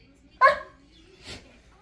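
A dog gives a sharp whimpering yelp up close, then a fainter second whine a moment later, with quiet background between.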